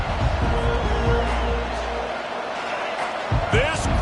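A packed football stadium crowd roars loudly and continuously, a dense wall of cheering that swells and dips, with a commentator talking over it.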